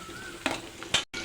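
Crushed garlic dropped into hot oil in a pan for a kidney bean kootu, giving short bursts of sizzle and a stirring scrape, with a brief pause before the frying resumes.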